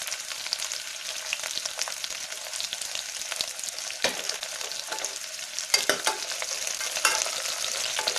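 Onions and green chilies sauté for Tamil Nadu sambar, a continuous close sizzle with frequent spoon-scraping stirs and a few sharper clinks against the pan.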